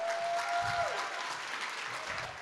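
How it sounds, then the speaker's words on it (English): Audience applause for a speaker at a talk on recovery coaching and lived experience, steady clapping from a group that tapers slightly over two seconds, with a brief steady tone sounding early on. "Can we get another round of applause for Alex?"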